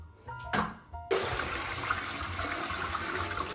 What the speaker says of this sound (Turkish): Ne olur ne olmaz. Sifonu çekelim.